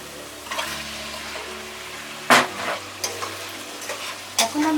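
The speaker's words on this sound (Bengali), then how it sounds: "এখন আমি মাছটা ঢেলে দিব" Pieces of katla fish are tipped into a pan of spice paste that has been frying for several minutes. A loud, sharp sizzling burst follows, with further bursts of crackling and stirring over a steady low frying hiss, and no talking.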